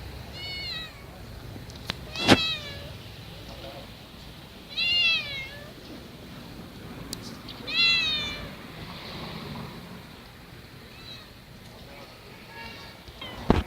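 A stray cat meows outdoors in a few separate, moderately close calls spaced several seconds apart, with soft background noise and occasional clicks between them.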